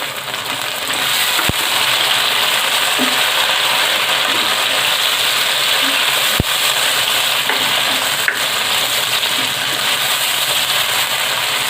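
Chopped tomatoes and onions frying in a pan, a loud steady sizzle with a hissing wash throughout and a few sharp pops and clicks, close by, no voices.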